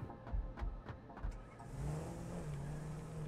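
A vehicle in Satisfactory starts up after a few clanking thuds, then its engine settles into a steady mid-pitched hum that rises slightly, fairly quiet and close.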